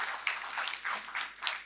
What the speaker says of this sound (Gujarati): સૌથી પહેલા અક્ષયભાઈ માટે જોરદાર તાળીઓ થઈ જાય.